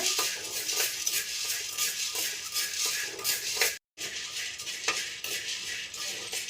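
Corn kernels dry-roasted in a pan for a homemade millet mix, a dense rattling rustle with repeated scraping strokes close by, briefly cut to silence in the middle, then continuing.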